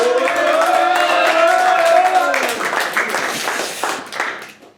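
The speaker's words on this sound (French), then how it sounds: "sous un tonnerre d'applaudissements" Audience applause filling a hall at an opening event, starting over a sustained tonal musical note that fades out, then a dense wash of clapping that thins and tapers away near the end.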